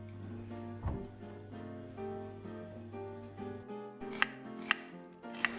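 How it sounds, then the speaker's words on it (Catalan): A knife cuts onions into thin julienne strips, with a few sharp, distinct chops on a board standing out near the end over a faint background hum. "Mentrestant, tallem les cebes en juliana."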